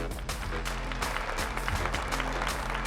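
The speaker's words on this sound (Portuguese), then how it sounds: "Salva de palmas" A steady, dense wash of clapping from an audience at the Qualcomm Innovation Summit in São Paulo, continuous throughout with no gaps.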